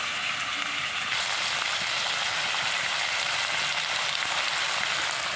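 Pork frying with turmeric and pastes of green chilli, dried chilli, ginger and garlic in hot oil gives a loud, steady, close sizzle that runs unbroken, with a bright crackling hiss.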